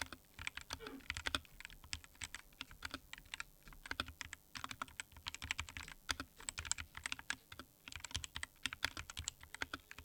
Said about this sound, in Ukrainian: Ось так клавіатура звучить в стоці.